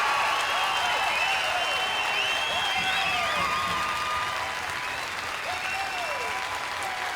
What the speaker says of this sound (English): Will you please make some noise for Mr. James Dean?